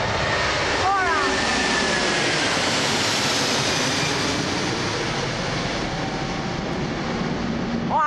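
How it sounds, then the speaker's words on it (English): A Lufthansa Airbus A340-600 aborting its landing at Toronto Pearson with a go-around, its four engines producing a loud, sustained broadband roar that fills the whole stretch, steady and close, with a brief voice speaking early on over the noise. "Lufthansa A346. Oh, go around, go around, go around."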